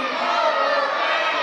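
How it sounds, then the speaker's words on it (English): Wrestling crowd at an independent show chanting in unison, a dense wall of many voices sustained at steady loudness throughout. "This crowd saying overrated."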